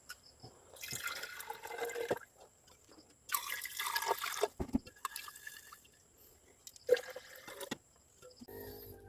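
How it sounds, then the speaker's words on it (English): A solution is poured through filter paper for filtration in a silver recovery process, heard as several separate bursts of hissing, splashing liquid with quiet gaps between them, close and faint, with no talking. "And we pour this one for filtration."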